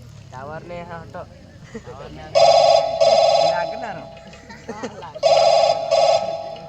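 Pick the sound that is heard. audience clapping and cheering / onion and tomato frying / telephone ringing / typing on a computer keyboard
telephone ringing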